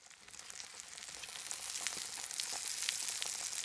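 Bacon sizzles in a pan, a soft, continuous hissing crackle with scattered pops that gradually grows a little louder, with no voices.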